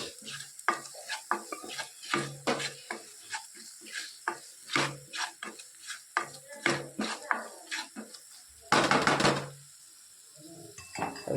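Spices being stirred into hot oil for fried tindora with ivy gourd, chili powder, asafoetida and coriander-cumin, a spoon clattering repeatedly against the pan in quick uneven strokes over a steady sizzle, with a louder scraping burst near the end.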